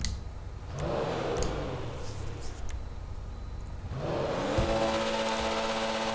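A Cabrio Comet S2 car in GTA Online, fitted with a level 4 engine upgrade, revs up twice, its steady mid-pitched engine drone rising and swelling in the second half.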